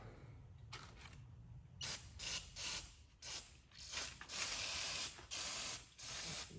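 Repeated bursts of aerosol cleaner spray hiss onto an engine part in short pulses of about a second, close and fairly quiet, with brief gaps and faint mechanical clicks between.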